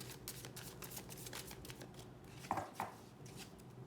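A deck of tarot cards is shuffled by hand in a soft, riffling patter, faint and close, with two sharper snaps of cards near the end and no talking.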